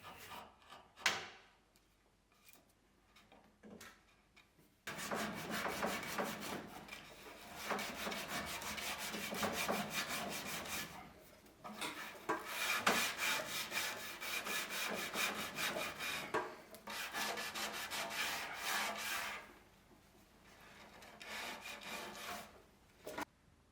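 Sandpaper rubbing back and forth over the wooden transom edges of a boat under reconstruction, a steady close scratchy rasp in long strokes with brief pauses, alone without talk.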